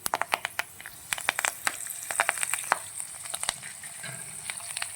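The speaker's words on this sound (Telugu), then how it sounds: "ఎండుమిరపకాయలు అన్నీ వేసుకుని ఫ్రై చేసుకోవాలండి." Dals, mustard seeds, cumin, asafoetida, curry leaves and dry red chillies sizzle and pop in leftover oil from frying drumsticks for a drumstick pickle tempering, with sharp crackling bursts over a steady hiss, close and fairly loud.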